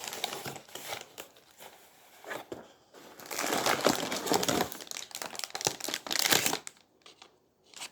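Plastic and cardboard packaging of a penguin ice-breaker toy crinkles and crackles up close as it is unboxed, in uneven bursts with short pauses between them.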